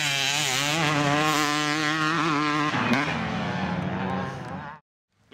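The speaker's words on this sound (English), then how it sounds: "we're still shredding our dirt bikes" Dirt bike engines rev loud and close on a dry motocross sand GP track at Monster, a steady high buzzing whine that shifts pitch around the third second, then cuts out abruptly near the end.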